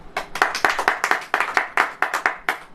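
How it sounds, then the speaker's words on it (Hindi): A church congregation claps in a steady rhythmic beat, about a dozen sharp claps over a few seconds, fairly close and alone without talk. "ताली बजाएं।"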